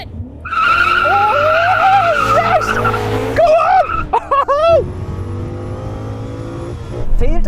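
Several BMW M5 generations launching in a drag race: loud screeching tire squeal and rising, revving engines up close, a brief lull, then more engine roar, with a voice speaking partway through.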